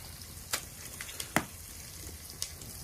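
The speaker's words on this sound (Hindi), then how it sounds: "तो बाबा जी तड़का लगा रहे हैं" An elderly baba tempering spices in hot oil for dal, giving short crackling sizzle bursts and sharp pops over a steady low hiss, with no talking.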